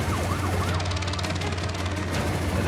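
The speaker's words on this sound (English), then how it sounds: "There's the siren, there's the siren." A wailing siren sounds continuously at a wildlife capture site, its rising and falling tone steady and loud over a low rumbling hum, with no talking.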